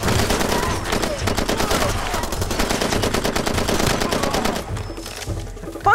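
Bursts of automatic gunfire in the video game Far Cry 2 hammer on almost without pause, dense and loud, with a brief lull near the end before one more shot.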